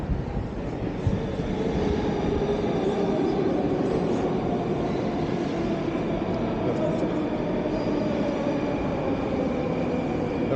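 A metro train at Partizanskaya station in Moscow rumbles steadily for about ten seconds, a loud continuous roar of wheels and carriages with faint higher squeals and no clear talk.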